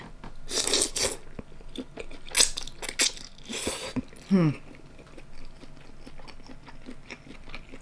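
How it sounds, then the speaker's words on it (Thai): Someone eats fresh raw beef with som tam papaya salad, with close crunchy bites and wet chewing in irregular bursts, plus a brief vocal sound partway through. "เนื้อสดกินกับส้มตำเข้ากันดี"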